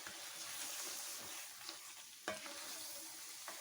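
Cooked mutton is stirred into palak spinach in a hot pan, giving a soft but continuous sizzle with a few scraping stirs and utensil knocks.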